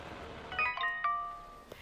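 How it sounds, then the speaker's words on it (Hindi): A faint electronic ringtone plays a short run of chiming beeps against quiet background hiss. "रूही, नानी और पाखी का फोन बजता है"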